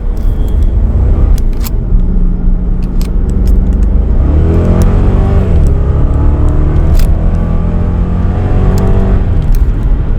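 A BMW Z4 M Coupe in Dynamic mode with stability control switched off accelerates hard, its engine a loud, close, continuous roar that climbs through rising revs and shifts, with no talking over it.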